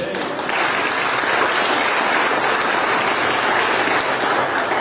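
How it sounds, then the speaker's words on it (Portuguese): A church congregation claps in sustained, dense applause that swells quickly and holds at a steady level. "Você pode aplaudir o seu por isso?"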